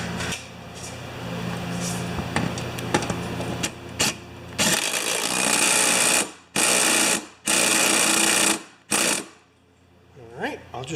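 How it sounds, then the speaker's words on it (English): An impact wrench drives the bolts on a Poulan Pro mower blade adaptor, heard as several loud, close rattling bursts of a second or so each with short pauses between them, over a continuous workshop noise. "now we need an impact with a 9/6 or a quarter 14 millimeter"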